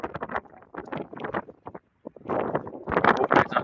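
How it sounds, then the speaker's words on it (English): Outdoor wind buffets the microphone in a park in gusty, irregular bursts of low rumbling noise, with a brief quiet gap midway before stronger gusts return. "Wind, man."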